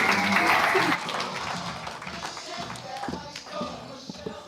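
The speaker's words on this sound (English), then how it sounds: "That was the most mediocre clap I've ever heard in my entire life." Audience at a live university awards and recognition event applauding a speaker onto the stage, a moderate burst of clapping that quickly thins and fades as a voice begins talking over it.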